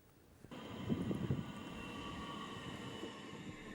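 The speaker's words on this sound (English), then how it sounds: "These light blue southeastern trains might soon be turning orange." Southeastern suburban trains on a London rail line rumble past, starting abruptly after a brief quiet and settling into a steady, moderately loud rolling roar with a few louder clunks early on.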